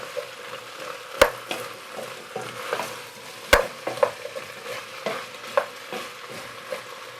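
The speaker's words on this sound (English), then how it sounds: "now I'm going to add the chorizo. Just going stirring it and getting all the flavours mixed together" Chorizo sizzles softly in a pan while a utensil stirs it, with a few sharp scrapes and knocks against the pan over a low, steady frying hiss.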